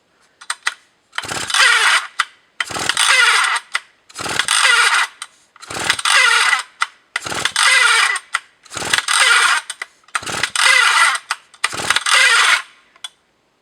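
A Husqvarna A 65 chainsaw engine is pulled over repeatedly on choke in hot weather, eight loud rasping bursts of cranking and sputtering, each about a second long, separated by short silent pauses and never catching.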